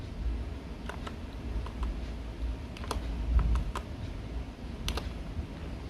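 Numbers typed on a computer keyboard, a handful of light, irregular key clicks close by over a low background hum, no talk.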